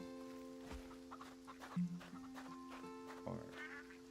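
Chickens cluck softly in Farm Together 2, a few scattered farmyard clucks and squawks over a quiet musical background, with faint talk now and then.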